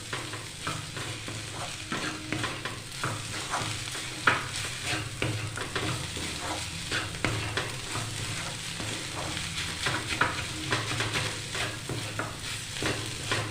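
Vegetable filling seasoned with Maggi masala being stirred in a hot pan, a steady sizzle of frying with continuous scraping and stirring strokes throughout, close and fairly loud, no voices.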